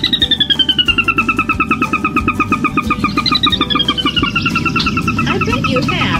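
In a marsh, a Sora rail's whinnying call spills down the scale as a fast series of repeated notes, followed by a second descending run, heard clearly over a continuous low hum.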